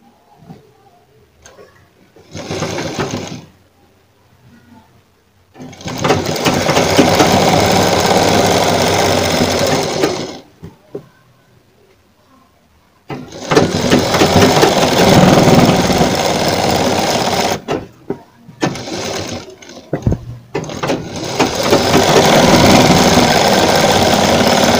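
An electric sewing machine stitches a black strip onto a frilled sleeve in long, loud, steady whirring runs, stopping and starting several times with short quiet gaps and brief bursts between.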